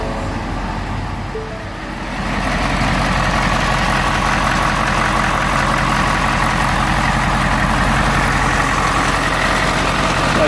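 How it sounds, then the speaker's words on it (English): A Ford F-450 tow truck engine, parked, turns over and settles into a steady, loud idle with a low rumble that runs continuously after a brief dip near the start. "so we'll start the engine up."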